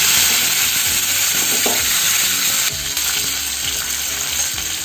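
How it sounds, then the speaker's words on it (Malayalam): Mustard seeds and curry leaves sizzle and crackle in hot coconut oil, a loud, continuous frying hiss with scattered pops, close up and without talk. "ഇതിലേക്ക് ഒരു 1/2 ടീസ്പൂൺ കടുക് ഇട്ട് കൊടുക്കാം"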